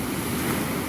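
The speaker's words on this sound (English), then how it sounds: "So we've got a nice, how many? 1, 2 waves coming in." Wind-driven waves rolling onto a lake shore on a breezy morning, a continuous close wash of surf mixed with wind rush on the microphone, with no speech.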